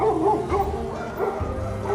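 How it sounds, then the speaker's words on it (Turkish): Several dogs barking and yipping at cars near the Kamondo Stairs in Karaköy, in quick, irregular bursts, fairly close, continuing steadily throughout. "Köpekler arabalara havladılar."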